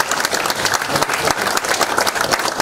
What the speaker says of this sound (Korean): 다시 한번 우리 큰 박수 쳐주시고